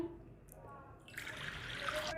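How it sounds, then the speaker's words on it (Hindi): Water is poured into a bowl in a home kitchen while preparing fried chicken. A steady rushing pour starts partway through and continues close by, with a voice faintly underneath. "सबसे पहले एक बाउल लें, उसके अंदर पानी डालें"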